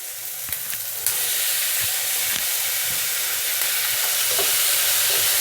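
Tomato pieces frying in masala for kadai paneer, a steady loud sizzle and hiss from the pan with occasional soft scrapes of stirring, close and continuous.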